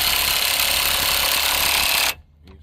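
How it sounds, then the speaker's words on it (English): Impact wrench running on a 2020 Chevrolet Equinox brake and rotor job: a loud, close, continuous rattling burst for about two seconds that cuts off abruptly, leaving faint shop noise. "use the impact to lift it on up"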